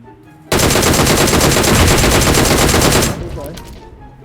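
Sustained automatic gunfire in PUBG Mobile, a loud rapid burst of shots lasting about two and a half seconds, abruptly stopping, then fading to quieter background game noise.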